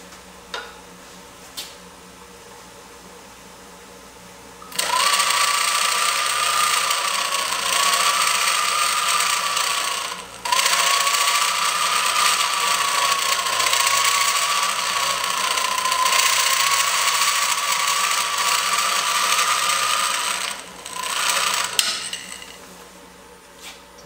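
A wood lathe spins a bowl blank at roughly 800 RPM, a loud steady whirring hum that starts after a quiet lead-in, with a brief dip midway and an abrupt stop near the end.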